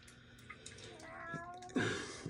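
A cat gives a short, rising then falling meow, followed by a louder second cry, close and fairly quiet, with faint background noise.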